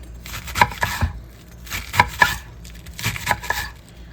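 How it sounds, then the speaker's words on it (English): Knife slicing lettuce very thin on a cutting board for homemade Big Mac copycat burgers, heard as quick crisp chops in short bursts of two or three, close and fairly loud with pauses between. "lettuce, and I'm not shredding it. I'm just going to slice it really, really thin"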